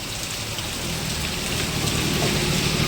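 Heavy rain pours in Siddhpur, a dense, even hiss of drops hitting surfaces that runs unbroken and fairly loud, with no voices.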